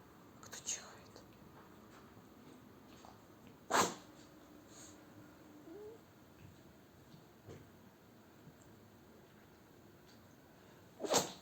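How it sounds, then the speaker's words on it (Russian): A pet cat gives a short burst of sneezes, one sharp sneeze near the middle and another at the end, with faint snorts and soft whispering voices around it in a quiet room. "А кто чихает?"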